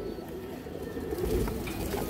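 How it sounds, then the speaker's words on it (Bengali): Small fancy pigeons coo softly in low, rolling murmurs, a steady overlapping burble that swells slightly toward the end, close by with no talking. "ছোট ছোট কবুতর দর্শক"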